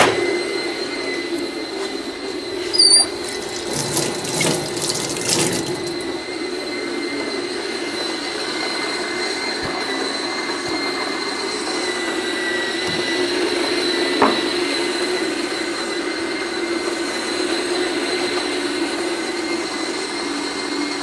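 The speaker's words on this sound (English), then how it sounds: "Very slow grinder." Fellow Opus coffee grinder slowly grinding espresso beans, a steady mechanical whine and drone running continuously at moderate loudness, with a brief louder rattle early on.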